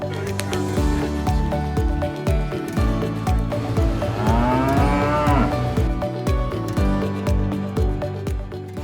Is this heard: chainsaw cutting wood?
no